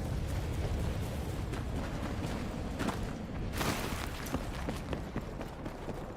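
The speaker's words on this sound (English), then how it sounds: "Gunshots. Gunshots." Gunfire in Battlefield 6 sounds as muffled, distant bursts and booms inside a dense, rumbling game soundscape, with no clear voices over it.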